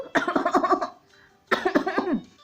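A voice imitates coughing in two bursts of raspy, laughing coughs separated by a short pause, close and fairly loud.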